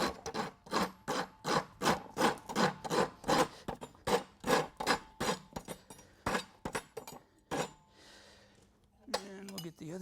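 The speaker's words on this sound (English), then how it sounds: "I'm just going to work the collateral sulcus here with the rasp." A farrier's rasp filing a draft horse's rear hoof, about twenty rhythmic rough strokes in a steady back-and-forth, close and loud, then a short pause and a brief metallic clink at the end.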